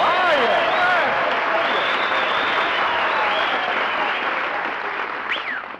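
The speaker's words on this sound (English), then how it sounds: "did you hear that ovation, Mary?" A radio-show studio audience gives a loud, sustained ovation of dense clapping mixed with cheers and whistles, easing slightly toward the end.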